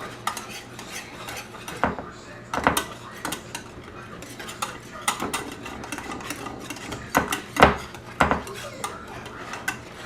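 Wire whisk stirring peach cobbler batter in a bowl, giving repeated clinks and scrapes against the bowl in uneven bursts, close and moderately loud, with no talking.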